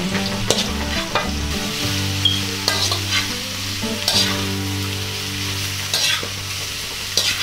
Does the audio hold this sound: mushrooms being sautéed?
yes